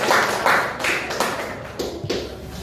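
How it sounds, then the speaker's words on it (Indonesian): Classroom applause for a student group, a short burst of clapping hands with distinct taps that thins out after a couple of seconds. "kita beri aplaus untuk kelompok 2"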